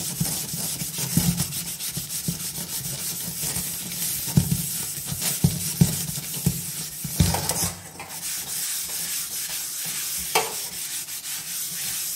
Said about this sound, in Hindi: अब हम इसको अंदर की साइड स्क्रब से रगड़ेंगे